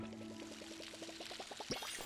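Water pours onto a planted tree in the cozy life game Palia, a soft, even splashing trickle with regular little drips, close and gentle, ending in a brief sloshing swirl.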